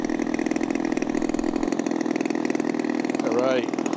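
The small engine of a Savage Bobber RC model airplane runs steadily and loudly with a dense, rapid buzz, and a voice speaks over it near the end.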